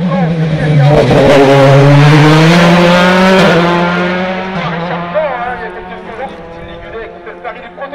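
A powerful prototype race car engine screams past at high revs at the Bagnols-Sabran hill climb, its pitch rising and then dropping as it pulls away, with a voice talking over it.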